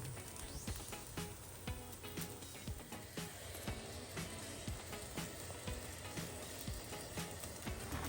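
Corn pancake batter with a little oil around it frying in a covered pan, a faint, steady sizzle with light crackles running throughout.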